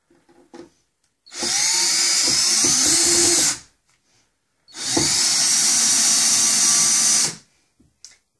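Two sustained bursts of a power drill whirring at high speed while driving a screw to install a floating shelf, each lasting about two seconds, with a short pause between them.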